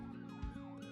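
An emergency vehicle siren in a 2D animation about traffic rules, a loud wailing tone rising and falling in quick cycles, heard alone.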